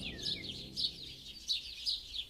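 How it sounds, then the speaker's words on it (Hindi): Morning forest birds calling, a string of bright chirps and tweets repeating every half second or so at moderate loudness over a soft low background murmur. "सुबह सुबह जंगल से उठती जानवरों और पक्षियों की आवाजों से क्षितिज की नींद टूट गई।"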